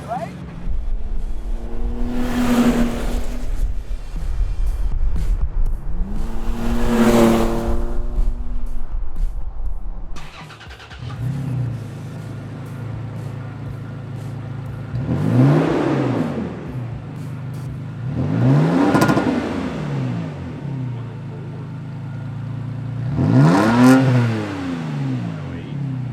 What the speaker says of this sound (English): This new exhaust is resonating with me, right?